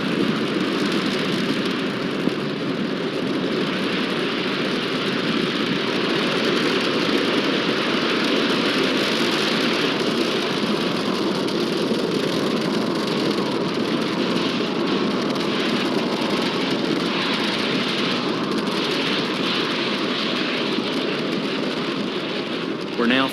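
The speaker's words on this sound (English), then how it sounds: "Falcon 9 has taken off. It's cleared the tower" A SpaceX Falcon 9 rocket lifts off from the East Coast on a polar launch carrying the Argentine SAOCOM 1B satellite, a continuous broad roar that holds steady and loud throughout its ascent.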